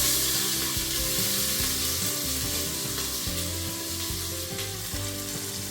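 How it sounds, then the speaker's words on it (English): Cumin, star anise seeds and onions fry in a pressure cooker, giving a continuous close sizzle with crackling bursts that stays steady throughout and has no talk over it. "So in goes cumin and star anise seeds, as well as onions."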